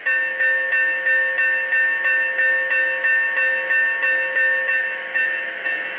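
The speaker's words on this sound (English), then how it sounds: "let's hear the bell" The bell of a Lionel LionChief Plus 2.0 Big Boy model locomotive clangs in a steady, even rhythm, about three strikes a second, each ring decaying into the next, close and clear with no talking.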